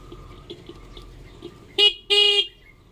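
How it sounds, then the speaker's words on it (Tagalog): An old motorcycle horn powered by a small cheap battery gives two short, loud, buzzy honks close by. The second honk lasts a little longer than the first. "Check na natin itong busina."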